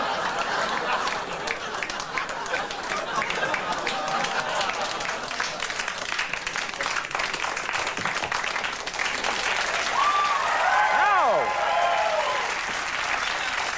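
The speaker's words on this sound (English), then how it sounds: "I was just trying to hear the pity applause" A studio audience claps continuously in a dense, even wash of applause that carries on throughout, with a brief tonal voice-like sound rising through it near the end.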